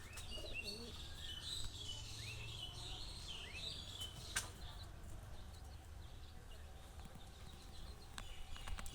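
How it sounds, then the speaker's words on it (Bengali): Pet pigeons perched on a tin roof coo softly and faintly over a steady low background hum, with a few thin chirps and no talking. "আপনারা দেখতে পাচ্ছেন, এই যে আমার কবুতর।"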